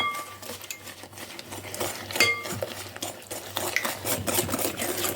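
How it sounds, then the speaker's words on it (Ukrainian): Eggs being mixed into chocolate brownie batter in a bowl, a close continuous stirring and scraping with occasional clinks of the utensil against the bowl. "Тепер додаємо по одному яйце та перемішуємо"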